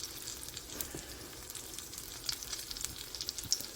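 A four-cheese grilled cheese sandwich sears in a pan with a faint, steady sizzle and soft crackling throughout, quiet and close, with no talk.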